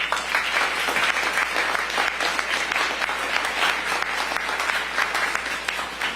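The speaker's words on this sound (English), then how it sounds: "let's give the school community a round of applause" A school audience claps steadily and densely, a continuous wash of many hands that holds at an even level throughout.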